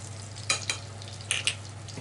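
Kashmiri chili powder frying in oil over a low flame to make rogan, a soft steady sizzle with a few faint stirring scrapes of a spoon in the pan.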